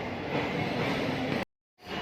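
An express train at a Mumbai railway station platform, a dense, continuous rumbling roar of passing carriages heard close and loud, abruptly cut short.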